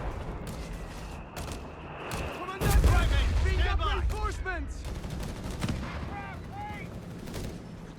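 Battle gunfire in Company of Heroes 3, a desert clash of Afrika Korps against US forces with tanks engaged: steady crackling small-arms and machine-gun bursts that swell into a loud volley midway, under overlapping game voice chatter.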